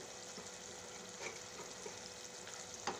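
Eggs frying in oil with tomato: a faint, steady sizzle with a few soft stirring clicks, with no talking.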